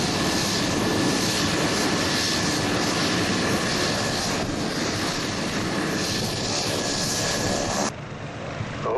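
A light aircraft at an airshow in Bundaberg, 2011, makes a high-speed pass with the wind behind it: a loud, sustained engine roar with wind rush that holds steady, then drops off abruptly near the end.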